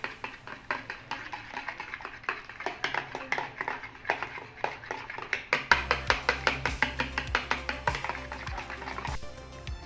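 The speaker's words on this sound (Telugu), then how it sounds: "బాగా నురగొచ్చేంత వరకు ఒక పావు గంట బాగా మిక్స్ చేసుకుందాం" A whisk beating cake batter in a bowl until frothy, fast regular clicking strokes close by that grow quicker and denser, with no talking.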